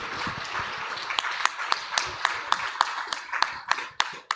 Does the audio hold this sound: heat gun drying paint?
no